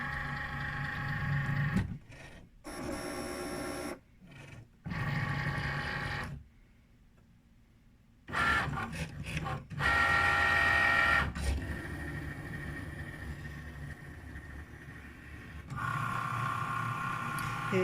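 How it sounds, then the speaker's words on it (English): A Cricut cutting machine runs a foil job on card, with stop-start whirring and motor buzz broken by short pauses and one longer silent gap, then steady mechanical running resumes, close and moderately loud. "I'm ready to hit the little flashing Cricut button again."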